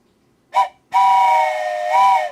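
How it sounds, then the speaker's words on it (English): A train whistle from the video game OpenTTD: a short toot, then a long sustained steam-whistle blast whose pitch dips and rises near the end, loud and clear with no talk. "There's the train whistle"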